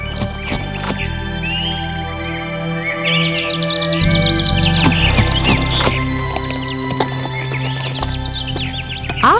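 Horse in an animated kids' story neighing and whinnying over clip-clopping hooves, with birds chirping in the background, loud and close with no speech.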